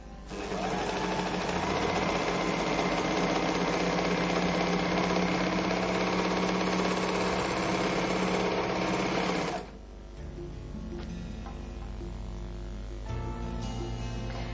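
A Merrylock MK-3000CL overlock machine stitches fabric with a fast, loud, steady mechanical whir for about nine seconds, then stops, leaving quieter handling noises and faint rustling.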